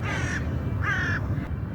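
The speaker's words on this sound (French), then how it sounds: "Le corbeau, calme-toi." A crow caws twice in an open outdoor setting on a climbing route, two harsh drawn-out calls spaced about half a second apart, moderately near with no talk over them.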